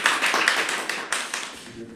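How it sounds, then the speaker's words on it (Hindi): A crowd at a song poster launch for a Pahari singer claps briefly with sharp, close, uneven hand claps that taper off within two seconds, with a voice speaking over them. "एक बार जोरदार तालियां इनके लिए।"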